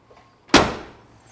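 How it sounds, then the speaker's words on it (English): A single solid thump of a 1970 Ford Mustang Mach 1 door shutting nearby, sharp and loud, followed by a brief fading rumble in an otherwise quiet space. "Door closes well."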